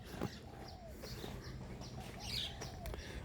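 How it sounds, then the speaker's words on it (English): Roosters crow faintly in the distance across a quiet Thai village, with scattered chirps and clucks over soft outdoor ambience. "Roosters crowing in the background."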